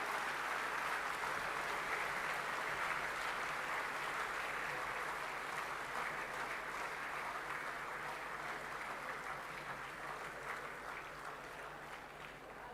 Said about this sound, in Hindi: जोरदार तालियों से स्वागत करें माननीय प्रधानमंत्री जी का।